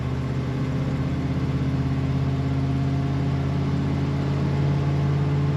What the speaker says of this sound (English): This car starts and idles nicely right away.